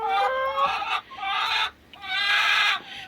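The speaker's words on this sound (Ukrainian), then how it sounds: "Показую своїх кур." Domestic chickens in a cold winter coop cluck close and loud in three rising, squawking bursts separated by brief pauses.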